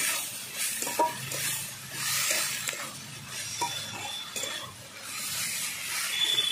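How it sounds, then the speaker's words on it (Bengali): Vegetables with ginger and green chili paste stir-fry in a pan, a constant sizzle broken by the scrape and clink of a utensil being worked through the mixture. "একটু আদা বাটা একটু কাঁচা লঙ্কা বাটা ভালো করে একসঙ্গে কষিয়ে নিচ্ছি সব"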